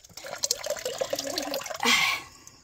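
Water splashes and trickles from a mountain spring on Mt. Kabunian as drinking water is collected, a close, uneven flow that swells into a louder gush near the end.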